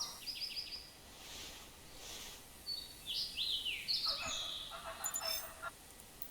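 Turkey hens call from a distance in theHunter Classic hunting game, a series of faint yelps and clucks scattered over several seconds above a quiet outdoor hiss.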